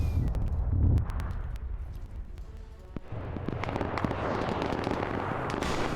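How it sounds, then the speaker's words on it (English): Naval mines exploding on a WWII D-Day beach in a strategy video game, a deep low boom followed by a chain of crackling, rumbling blasts and debris that spread into a dense, sustained roar. "And they hit the naval mine."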